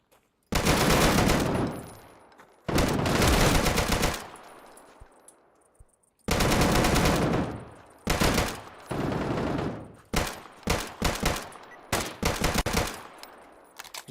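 Automated turrets in the video game Deadside fire long, loud bursts of rapid gunfire, several sustained volleys followed by shorter choppy bursts, each ending in a fading echo.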